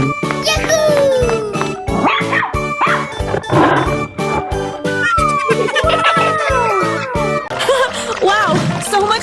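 Dog in a 3D animal video game, barking and yipping in rapid repeated bursts mixed with meow-like cries and busy game effects, loud and close throughout, with voices chattering over it.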